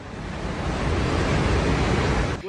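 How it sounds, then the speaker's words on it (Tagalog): Loud, continuous rushing floodwater from a debris flow in Nepal roars without a break, a dense broadband wash pouring between mountains. "rinig na ang pagragasa ng tubig sa pagitan ng mga bundok"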